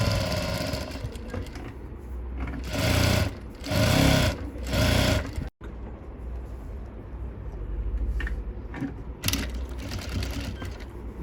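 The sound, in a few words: sewing machine stitching a sleeveless blouse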